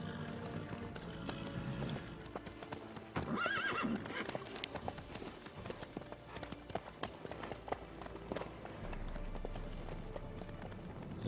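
Horse in The Witcher 3 video game, hooves clip-clopping steadily at close range with a neigh partway through, over faint ambient game sound.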